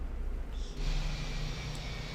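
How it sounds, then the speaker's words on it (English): Fenix A320 jet engines in a flight simulator, shutting down: a steady, continuous mechanical whine and rumble that holds throughout, with a higher-pitched tone joining partway in. No voices. "Engine number 1 and 2 can come off"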